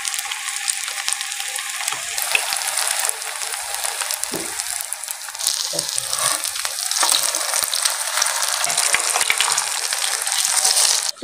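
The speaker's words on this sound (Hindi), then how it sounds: "इसको फ्राई करती जाऊंगी कबाब को" Kebabs fry in hot oil in a village home kitchen, a dense, bright, crackling sizzle that runs loud and unbroken for the whole stretch, with a few faint knocks underneath and no speech.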